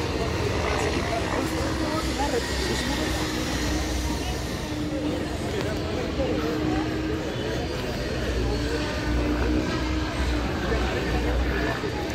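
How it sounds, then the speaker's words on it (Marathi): Continuous whining engine drone of a remote-controlled model airplane and helicopter overhead at a college tech fest show, mixed with outdoor crowd noise and indistinct voices. "आता खतरनाक प्लेन शो होणार आहे हेलिकॉप्टर शो."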